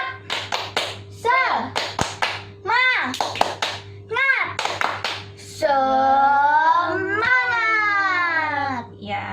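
In a children's class, a voice chants and sings a rhythmic clapping routine with sharp hand claps between the sung phrases. The clapping breaks off as a long, wavering childlike vocal rises near the end.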